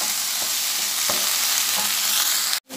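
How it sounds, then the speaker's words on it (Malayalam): Tomatoes being stirred into a sizzling pan of chicken cashew nut masala, with steady close frying hiss and a few soft spoon scrapes against the pan, cut off abruptly at the end. "ശേഷം നന്നായിട്ട് എല്ലാം കൂടെ മിക്സ് ചെയ്ത്"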